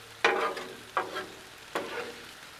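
Barbecue chicken stirred on a Blackstone griddle, three scraping mixing strokes each followed by a brief sizzle, close and fairly quiet, with no talking.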